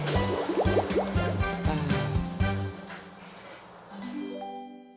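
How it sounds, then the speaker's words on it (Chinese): Splashing, spraying water from a cartoon car wash, with bouncy squishy drips and fills, bright and close, trailing off into rising musical tones at the end. "盖克洗车间启动。"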